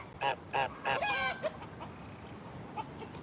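A few loud, nasal honks from a nearby goose at an animal sanctuary, several in quick succession, then quieter outdoor background with a faint distant call.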